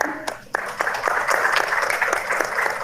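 An audience in São Gabriel applauds at a Brazilian gathering, with dense, continuous clapping close to the microphone that swells after a brief lull and holds steady.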